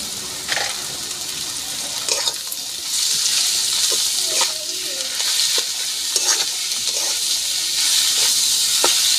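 Small shrimp hit a pan of frying onion and garlic and set off a loud, steady sizzle, broken by brief scraping stirs and clicks as the mix is moved around.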